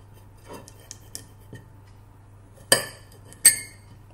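A knife cuts cucumber slices into smaller bits on a cutting board: a few faint taps, then two sharp, close chopping clicks near the end, with quiet room tone between.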